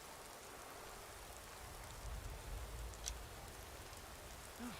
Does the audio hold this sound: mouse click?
no